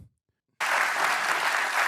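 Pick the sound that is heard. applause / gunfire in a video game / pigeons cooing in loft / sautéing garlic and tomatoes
applause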